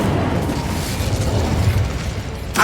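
An Incendio fire spell in the Hogwarts Legacy video game makes a loud, continuous roaring rumble with a crackling texture, ending in a sharper burst.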